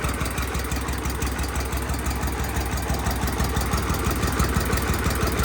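An old DT 14 tractor, about 55 years old and gear-started, runs at idle with a loud, steady, rough diesel chug and dense mechanical rattle close by, without a break.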